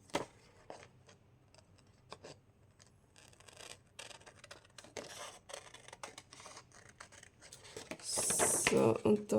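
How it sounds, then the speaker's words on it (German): Scissors snip at the clear laminated edge of a mini journal's cover, making a series of quiet, irregular clicks and cuts, with a louder rustle of plastic near the end. "das kann ich ganz gut mit der Schere"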